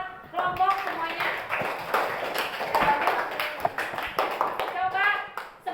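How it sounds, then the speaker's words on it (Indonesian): A school class claps hands for a group during a lesson, scattered close hand claps in an irregular rhythm mixed with children's voices talking and chattering throughout. "tepuk tangan dulu buat kelompok semuanya"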